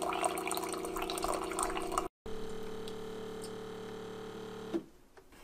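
A Keurig K-Duo Plus coffee maker heats and brews water with a steady mechanical hum and liquid trickle, a brief cutout midway, then quieter after the brew ends.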